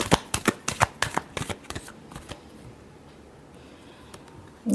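Tarot cards are shuffled in a quick run of crisp riffling snaps that gradually soften and thin out into faint rustles, heard alone and close with no talk.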